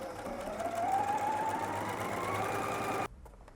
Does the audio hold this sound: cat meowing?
no